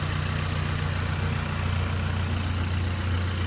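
A VW Golf Mk6 engine idles steadily after a refresh, a smooth, even low hum held at constant level throughout with no other sounds.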